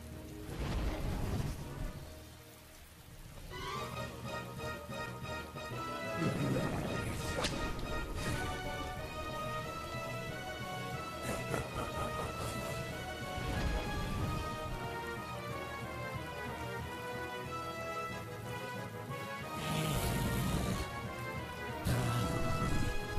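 Rain effect from the Pokémon Rain Dance move in a Generation 2 game: a steady wash of rainfall with occasional thunder-like bursts, layered over continuous game music for the whole stretch.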